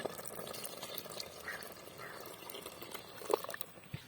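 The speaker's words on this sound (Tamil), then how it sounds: "இனிமே பால் ஊத்திக்கலாம்." Milk pours into a pot of coconut payasam cooked with sago and vermicelli, a faint continuous liquid trickle with small drips and a brief splash near the end, no one speaking.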